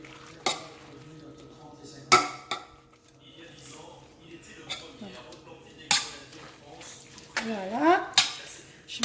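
A potato galette mixture is stirred in a pan: sharp utensil clacks and scrapes come in irregular bursts over a soft background sizzle, with a voice briefly heard near the end.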